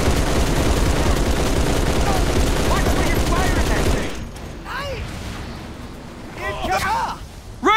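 Dense rapid gunfire in Halo 3, loud and continuous for about four seconds, then dropping to quieter scattered shots and mechanical sounds with voices speaking over the battle.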